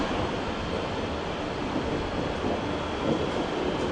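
An older Intercity train passing through Köln Hauptbahnhof, a loud, continuous rumble and roar of wheels on the tracks, close and steady for the whole stretch with no voices.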